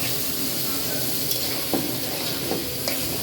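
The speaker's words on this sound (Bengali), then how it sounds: "পেঁয়াজ থেকে মরিচ এসব একবারে দিয়ে নাড়াচাড়া দিই" Onions and chilies fry together in a pan with a steady, close sizzle, while a utensil stirs and scrapes the pan in a few soft clinks.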